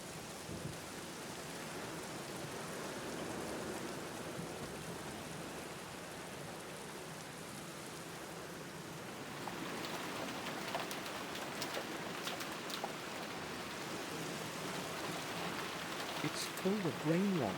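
Continuous rainfall in the adventure game The Black Mirror hisses steadily, with faint low rumbles beneath and scattered sharper drips and crackles growing busier toward the end.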